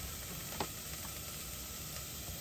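Onions sauté in a pan on a gas stove in a camper van, giving a soft steady sizzle with a faint stir or two, quiet and continuous with no talking over it.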